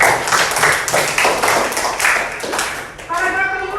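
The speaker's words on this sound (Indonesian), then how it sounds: "tepuk tangan untuk Advan" Classroom applause for a sixth-grade pupil at an Indonesian primary school, a burst of children clapping in uneven rhythm that fades as a voice starts speaking near the end.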